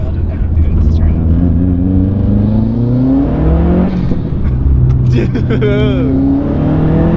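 A widebody Subaru STI with a swapped engine accelerates hard in second gear; the loud engine tone climbs steadily in pitch, heard from close by inside the car, with a brief voice exclaiming over it.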